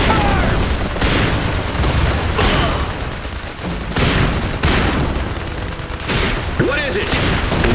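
Gunfire and explosions from the PC strategy game Iron Harvest, Operation Eagle DLC: dense, loud bursts of rifle and machine-gun fire with repeated heavy booms, continuous throughout a close-up battle, with some voice chatter mixed in.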